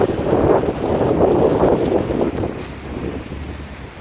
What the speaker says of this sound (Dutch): en het waait nogal hard.